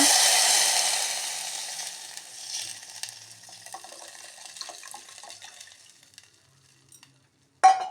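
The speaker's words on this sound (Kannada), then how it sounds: "ಒಗ್ಗರಣೆ ಸಿಡಿತಾ ಇದೆ." Mustard-seed tempering crackles and sputters loudly in hot oil at first, then the sizzling fades to faint pops and near silence before a sharp clatter at the end.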